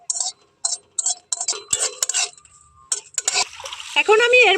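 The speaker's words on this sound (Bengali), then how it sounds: "প্রথমেই একটু লঙ্কাটা নাড়াচাড়া করে নেব।" Dry red chillies stirred in a pan on a gas stove, a utensil scraping and clinking in short repeated bursts, close and fairly loud, with light frying sizzle building toward the end.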